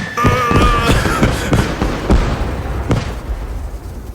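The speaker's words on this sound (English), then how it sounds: "Oh, sparklers." Sparkler fireworks firing in the Firework Mania video game, a rapid run of sharp crackling pops and bursts close up, dense at first and thinning out over a few seconds.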